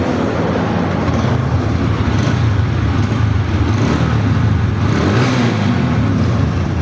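A running Apache 160 motorcycle engine, a steady low rumble with exhaust note, loud and continuous throughout without talk.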